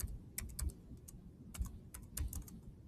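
Typing on a computer keyboard, quiet rapid key clicks in short irregular bursts with brief pauses, no voices.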